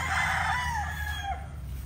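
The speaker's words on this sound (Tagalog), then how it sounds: "lahat naman tayo nag-aalaga ng manok" A rooster crows once in a long, drawn-out call on a farm hit by typhoon and monsoon rains, loud and close with a steady low background hum.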